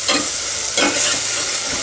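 Onion, garlic and asafoetida sauté in a pan, giving a close, loud hiss and sizzle that swells briefly as it is stirred, with no voices.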